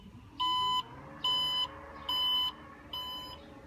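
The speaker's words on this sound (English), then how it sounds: "So when I open it up, it has the beeping noise" A car's power tailgate gives four evenly spaced electronic beeps as it opens, each about half a second long, sounding clearly with short gaps between them, the last slightly quieter.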